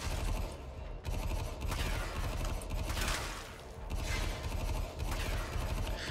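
Rapid gunfire from the Hind rifle in the game Warframe, a dense, continuous stream of loud shots with short pauses between bursts, mixed with game effects and no talking.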